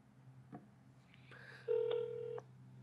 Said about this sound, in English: I'll intentionally not pick it up and try to dial again.